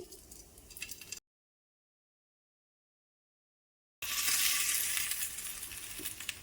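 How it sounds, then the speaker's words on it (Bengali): An onion paratha frying in a pan with a little oil gives a close, hissing sizzle. The sound cuts to complete silence for a few seconds, then returns louder and brighter. "এখন আমি উল্টিয়ে পাল্টিয়ে পরোটাটা খুব ভালোভাবে বেজে নেব"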